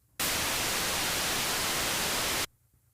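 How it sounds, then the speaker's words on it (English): A burst of loud, even synthesizer white noise hiss starts abruptly, holds steady for about two seconds, then stops dead, leaving near silence. "The purest form, white noise, is all frequencies sounding at once."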